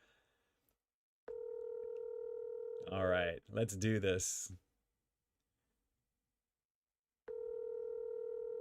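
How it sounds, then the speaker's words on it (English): A telephone on a call gives a steady tone, then after a pause a second identical steady tone sounds, with someone talking in between. "It's ringing."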